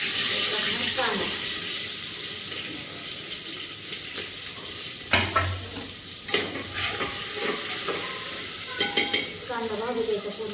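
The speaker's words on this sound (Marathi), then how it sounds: "कांदा भाजू द्यायचा पूर्ण लाल होऊ द्यायचा कांदा" Onion frying in hot oil with green chillies for biryani, a continuous loud sizzle with repeated scraping and clinking as a spoon stirs the pan.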